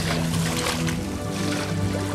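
Water laps gently at a sandy beach on the shore of Lake Victoria in Uganda, a steady, soft and continuous wash with a low rumble underneath and no talking.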